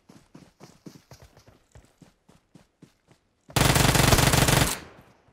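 Gunfire in the PUBG Mobile battle royale game: a series of sharp, rapid shots in uneven bursts, then a dense, loud sustained blast of roughly a second that tails off, close and with no talking over it.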